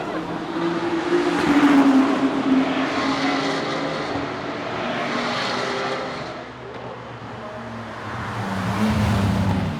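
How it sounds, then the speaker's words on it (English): GT3 race cars pass on the Nürburgring circuit during a 24-hour race, their engines a steady, loud roar that swells and fades as a group goes by, with no nearby talking. "was being overtaken by a big group here of the faster GT3 cars"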